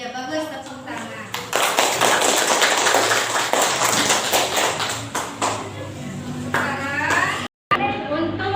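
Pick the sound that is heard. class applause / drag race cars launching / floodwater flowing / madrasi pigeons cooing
class applause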